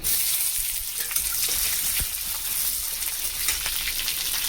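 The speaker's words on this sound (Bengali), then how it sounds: "কারি পাতা, কুচো পেঁয়াজ দিয়ে দিচ্ছি" Curry leaves and chopped onion dropped into hot oil with mustard seeds, sizzling loudly and continuously in a close, steady hiss with a few crackles and no talk.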